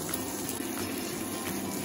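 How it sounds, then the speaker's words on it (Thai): Pork chops frying in a pan with olive oil and rosemary, a steady, close, busy sizzle that holds evenly throughout with no talking. "แล้วก็นำพ็อกช็อตของเรานะคะลงไปในกระทะค่ะ"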